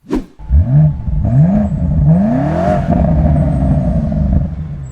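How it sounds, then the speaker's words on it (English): BMW M5 Touring wagon with a quad exhaust, heard loud and close as the engine blips and revs in rising sweeps, then settles into a steady rumbling drone. "I'll insert some footage of how the car sounds right now."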